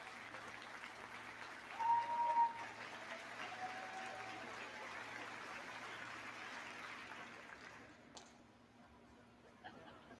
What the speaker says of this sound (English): That's why they were applauding.